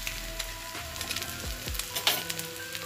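Eggs frying together with shredded kothu parotta in a hot pan, a steady close sizzle broken by scraping stirs and a few sharp metallic clinks of the spatula against the pan.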